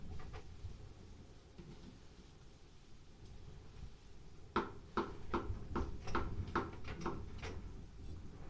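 Spring storm outside a home, with steady wind and rain washing through, then a run of sharp, irregular knocks or rattles as gusts strike, loud and close, with no voices.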